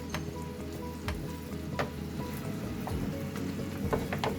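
Steak sizzles steadily in a frying pan over low heat, a continuous close crackle of fat with scattered sharper pops throughout, no voices.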